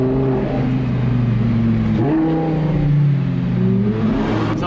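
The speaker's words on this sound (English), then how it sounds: "I really, really think that Ferrari has aftermarket exhaust because it is so loud" A Ferrari 458 engine revs and roars with a loud, throaty exhaust, pitch rising and falling through several throttle blips, close by and with no talking.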